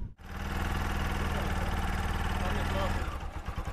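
A geared motorcycle engine runs steadily at close range during a beginner riding lesson, a throbbing mid-pitched drone that shifts and roughens near the end while a voice speaks over it.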